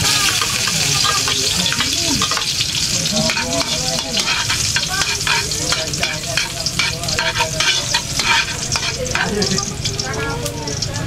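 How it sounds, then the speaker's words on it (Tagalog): Cooking oil boils and sizzles loudly and steadily in a pan, a dense continuous hiss with occasional stirring scrapes, no talking. "Kumukulo na ang mantika."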